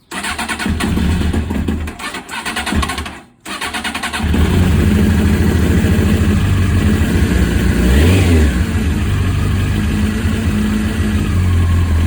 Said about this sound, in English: A little bit of choke. Yes, she starts up right away.